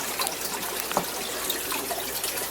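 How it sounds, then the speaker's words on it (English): Water draining from a 72-gallon bowfront aquarium through a hose into a floor drain, a steady splashing trickle at moderate level with small gurgles and no talking. "We're draining the 72 bow front."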